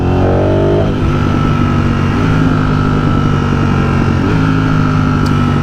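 A Ducati Streetfighter motorcycle engine, tuned by Brentune and set to race mode, rises in pitch as the throttle opens and then holds a loud, steady, close-up drone with slight surges.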